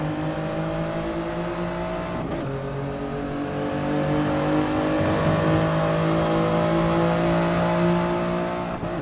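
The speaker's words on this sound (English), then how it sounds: "So now we're coming into the hairpin, and I'm going to brake late" A race car in Gran Turismo Sport brakes hard into a hairpin, a loud, continuous engine whine that shifts pitch as it slows, with no talking over it.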